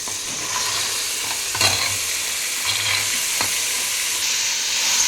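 Pigeon peas tipped into hot oil with tomato, green chilli and curry leaves, frying with a loud steady sizzle and a few brief stirring scrapes, close and without talk.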